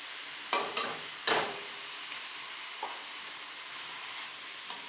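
Sprouted moong mixed with spices in a hot pan, with a steady sizzle and two louder scraping strokes of the spoon early on, then lighter taps as the mixing goes on.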